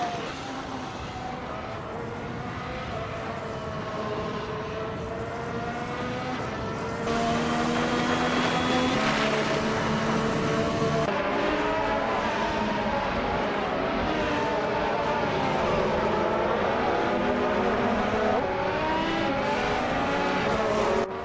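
Formula 1 cars, including a Mercedes AMG F1 W8 EQ, race in a video game, with high-pitched engines whining and shifting continuously, several cars overlapping and growing louder midway as they pass close.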